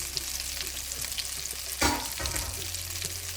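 Brinjal and onions fry in a pan over a low to medium flame for dhaba-style stuffed baingan, a steady close sizzle running throughout with one brief louder stir-scrape burst partway through.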